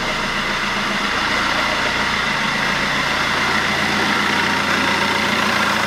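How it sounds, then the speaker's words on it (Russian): A 2008 Fiat Doblo Cargo 1.3 Multijet engine idles smoothly, giving a loud, continuous, even rumble that runs unbroken and close up, with no talking. "Двигатель мягенько работает"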